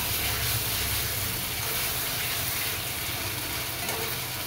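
Meat cooked with spices sizzles steadily in a pan for a Bengali-style thick mutton curry, a continuous broadband frying hiss close up that stays even throughout with no voices.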